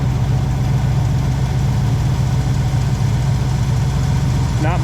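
The engine of a 1966 Pontiac Grand Prix barn find idles steadily near 900 RPM in a constant, close, rumbling drone that holds the whole time, with no talk over it.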